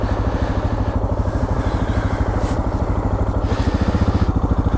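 Suzuki DR650SE dual sport motorcycle on a trail, its single-cylinder engine thumping in a steady, loud, close rhythm throughout with a rough clattering pulse and no voices.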